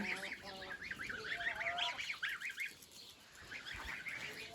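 Young geese (goslings) honk in a rapid, repeated series of calls close by, then fall quiet before a few softer honks return.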